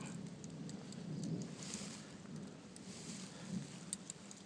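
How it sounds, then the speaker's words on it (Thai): Heavy rain pours through a hot forest, a dense, continuous hiss of drops on leaves and ground, steady and faint, with no talk over it. "ฝนตกนะครับ"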